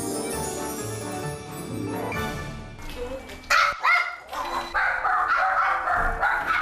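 Pet dogs at home bark loudly at a visiting trainer, a burst of sharp barks in the second half following a stretch of muffled background sound and voices.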